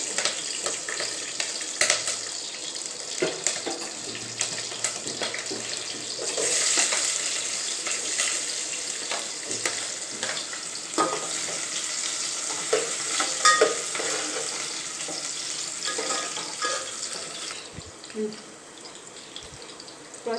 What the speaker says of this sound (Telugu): ఇప్పుడు నూనె కాలిందండి మనం ఉల్లిగడ్డ వేసుకుందాం